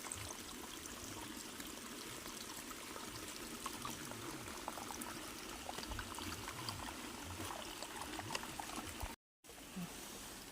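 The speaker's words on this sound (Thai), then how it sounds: "เป็นทางน้ำไหลเลยค่ะ" Steady, continuous trickling of water in a stream, even and unbroken, with a brief dropout near the end.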